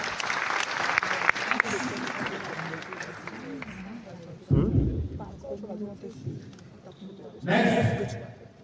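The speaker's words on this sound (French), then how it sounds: "On peut l'applaudir." A conference audience applauds, dense clapping from many hands over the opening seconds that fades under voices, followed by brief renewed bursts of clapping and crowd noise; people speak in between.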